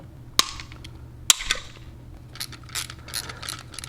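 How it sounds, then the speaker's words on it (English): A plastic in-wall TV cable-management trim plate pops off in two sharp snapping clicks, close by and crisp, followed by quieter plastic handling rustles. "Next, we need to pop off this trim plate"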